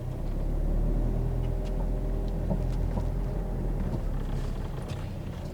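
A car engine idles steadily while reversing, giving a constant low rumble and purr at moderate level with no speech over it.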